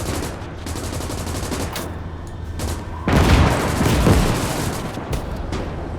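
WW2 gunfire crackles in the Eastern Front game Gates of Hell: repeated sharp rifle and machine-gun shots in bursts, then a louder, denser volley with booming impacts near the midpoint, all fairly close and with no talk.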